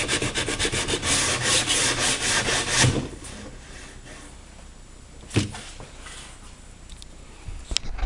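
Sandpaper rubs back and forth over a rawhide-backed wooden bow, a close, dry rasping in quick strokes at first, then quieter scattered scrapes with a couple of sharp knocks.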